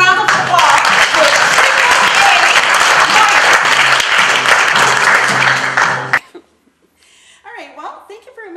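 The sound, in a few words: audience applause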